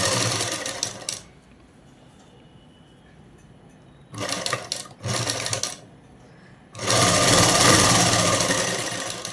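Sewing machine stitching along the back neck of a dress in three loud mechanical bursts, short ones in the middle and a longer run at the end, separated by quiet pauses.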